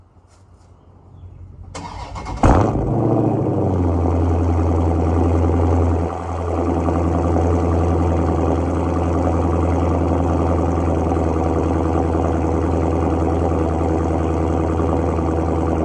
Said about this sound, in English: Let me give y'all boys a cold start.